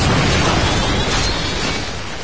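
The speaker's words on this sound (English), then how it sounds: "Friendly Predator missile inbound." A Predator missile blast from a Call of Duty multiplayer match booms loud and close, a dense rumbling roar that fills the whole short stretch and fades only slightly toward the end.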